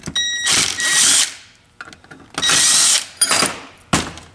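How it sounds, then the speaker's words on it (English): A drill cuts a channel into a 46RE transmission valve body on a twin-turbo 5.2 Magnum: loud, close high-pitched whining bursts of drilling, four runs separated by short pauses with light mechanical clicks between. "you guys can see the little channel we just drilled in the valve body"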